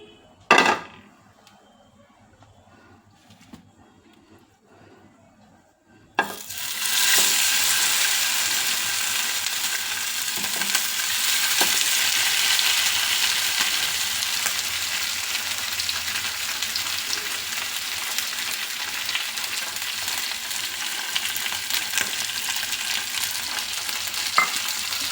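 Bangude mackerel hits hot oil on a tawa after a few quiet clinks, setting off a loud, steady sizzle that keeps crackling close by with occasional faint taps.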